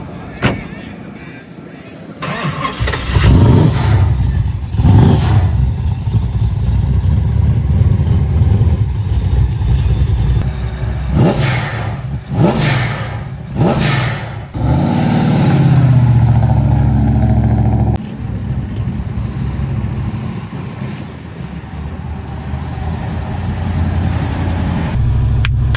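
A car engine revs hard while its tires spin, making a loud, sustained roar with sharp bursts and pops near the start and middle, up close, with people shouting over the noise.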